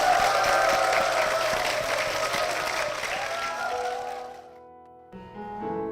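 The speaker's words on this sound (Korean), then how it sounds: "두 분께 축복의 박수" Audience applause in a church rises as a blessing for a married couple, sustained clapping that fades over several seconds before soft instrumental music begins.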